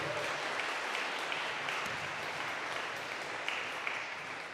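Audience at a piano concert at Holy Cross Mission clapping steadily in a dense, even wash of applause, moderately distant and continuous with no voices.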